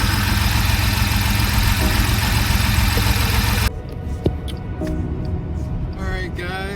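A Chrysler Pacifica engine idles steadily and evenly after a spark plug change on cylinder 6. A loud, close rumble drops abruptly to a quieter idle, with a brief voice near the end.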